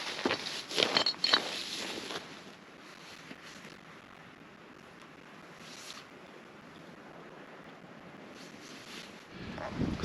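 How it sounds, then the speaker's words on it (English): Strong wind roars across an exposed mountain hillside as a steady, broad rush that stays loud for the whole stretch, with a few louder gusts and scuffs near the start and no talking. "Starting to get ultra windy out here."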